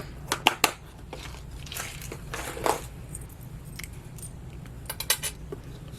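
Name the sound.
putting the lid back on a container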